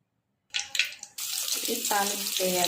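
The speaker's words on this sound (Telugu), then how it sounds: "వాటర్ పోసుకోవాలి" A few brief clinks, then water pours in a steady, splashing stream, with a faint voice murmuring underneath.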